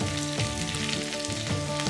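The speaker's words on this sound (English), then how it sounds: "What we're going to do now is we're going to drop in that onion" Chopped onion hits a hot pan of potatoes already frying to a light golden colour, setting off a steady, close sizzle that carries through the whole stretch with a low tonal hum underneath.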